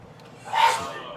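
A single short sneeze from a person in a home kitchen, moderately close and brief, rising abruptly and fading within a second.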